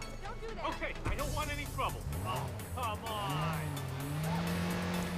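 A car drives in the video game Watch Dogs Bad Blood, its engine revving up and down in rising and falling sweeps with squealing tires, loud and close throughout.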